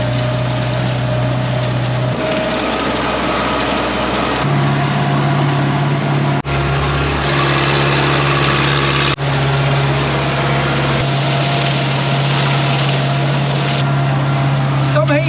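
A tractor engine runs steadily in a hay field, a loud continuous low drone with a shifting hum and steady mechanical noise throughout, close and with no pauses.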